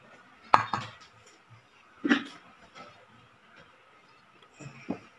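Onion, cucumber, coriander and green chillies dropped into a bowl make a few soft, separate clatters and thumps with quiet gaps between them, close and fairly faint.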